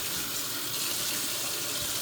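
Steady hiss of running tap water as a cooking pot is rinsed out in a sink, loud and continuous throughout with no talking.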